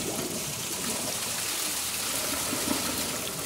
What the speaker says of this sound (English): Now, I'm going to flush them both just to get the dirt out.